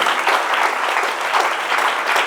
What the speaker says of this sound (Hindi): ताली बजाएं शमसू सर के लिए